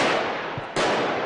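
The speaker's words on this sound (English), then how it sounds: "Gunfire." Gunfire during a police special forces raid in Brussels, heard as two sharp, loud bursts about three-quarters of a second apart, harsh and broadband over street noise.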